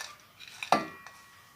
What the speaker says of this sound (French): on verse tout dans notre casserole